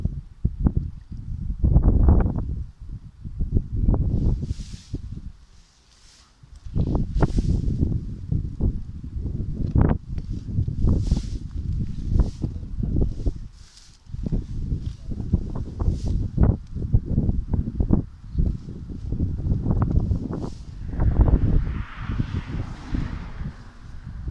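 Strong wind gusts buffet the microphone outdoors beside a canal where villagers lift-net fish, loud rumbling bursts rising and falling with brief lulls, rustling layered through.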